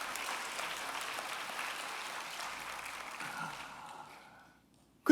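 A church congregation breaks into steady, even applause from many hands, holding at a moderate level for about four seconds before fading out into silence.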